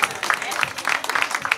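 An audience at a charity gala fashion show on the Champs-Élysées claps for the designer's models. The applause is brief and moderately loud, with a presenter talking over it.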